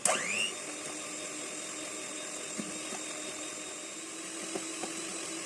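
An electric mixer whirs steadily, beating egg yolk, sugar and butter for an orange cake. After a brief louder start it settles into a faint, even hum with a few small knocks.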